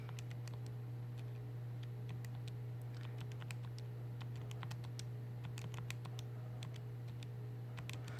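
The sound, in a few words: typing values into a graphing calculator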